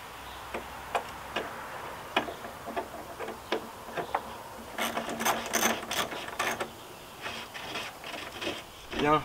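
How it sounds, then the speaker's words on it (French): An 8 mm ratchet wrench tightening on an Opel Corsa headlight, giving a run of quiet, sharp clicks at an uneven pace, then a faster burst of ratcheting in the middle, close and clear. "Je vais régler maintenant ma clé de 8 en position serrage."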